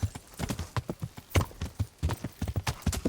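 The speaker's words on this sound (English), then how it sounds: "We can do a gallop. Don't hit any low-lying branches or I'll fly off my horse." Horse hooves in Kingdom Come: Deliverance clip-clop in a quick, steady rhythm, close and clear throughout with no talk over them.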